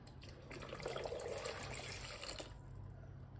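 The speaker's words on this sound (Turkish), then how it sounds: "Bir makinayı filtre kağıdı içerideyken boş çalıştırıyorum." A filter coffee machine runs empty with a filter paper inside, giving a faint, steady hiss and trickle of water that swells briefly and then eases off, with no talking.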